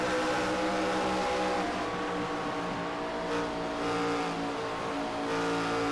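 Race cars, a CFA car among them, running laps at Chicagoland in a Sundance Pro Series race; a loud, steady engine roar with layered, overlapping tones that holds throughout, with no talking.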